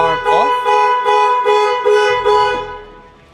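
A Jaguar Land Rover car alarm blares up close in rhythmic pulsing horn blasts, about five beats, before fading out.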